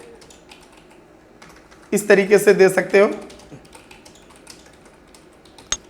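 Rapid computer keyboard typing during a Hindi and English CPCT typing test practice session, a dense burst of key clicks lasting about a second, with someone speaking before and after.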